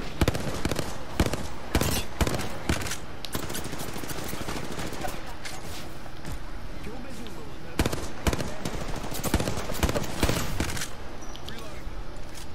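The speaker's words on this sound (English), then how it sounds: "Oh, I'm getting shot at." Rapid automatic gunfire from the Apex Legends video game rattles in loud bursts, with dense volleys at the start and again near the end and a busy stretch of shooting between them.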